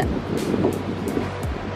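Surf rolls onto a beach with a steady low rushing roar, gusts of wind buffeting the microphone throughout, no voices heard.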